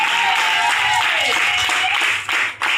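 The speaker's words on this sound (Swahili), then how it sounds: "Pokea makofi ya Yesu Kristo." Clapping from a church congregation acclaiming Jesus Christ during a service, a steady dense wash of applause sustained for a few seconds before briefly dipping near the end, with a faint tone running beneath.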